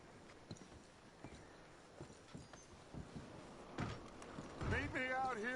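Horse hooves clip-clop softly in Red Dead Redemption 2, a few scattered steps in an outdoor game scene, faint and distant, with rising ambient noise and a brief tonal game sound near the end.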